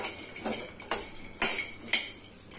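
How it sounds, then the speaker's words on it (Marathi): Peanuts dry-roasting in a pan for sabudana vada chutney give a run of sharp metallic scrapes and clinks, four or five spaced strokes about half a second apart, fairly close, with no talking. "आणि हे छान आपण आता खरपूस भाजून घेऊ."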